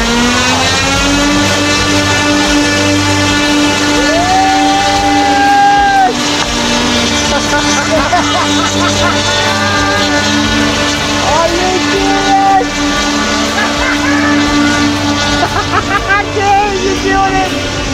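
The engines of a 20-foot model B-17 bomber run at high throttle, a loud sustained buzzing drone with rising and falling pitch sweeps as the revs change, while people talk over it.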